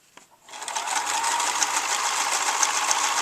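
Sewing machine stitching a homemade feminine cloth pad, starting after a short pause with a few clicks, then running in a steady fast whir of needle strokes, close and even.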